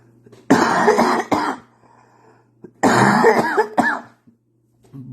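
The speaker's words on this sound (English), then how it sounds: "do what you just seen me do, which was cough" Two bursts of harsh coughing, each a cluster of rough hacks with some throat clearing, separated by a couple of seconds of quiet.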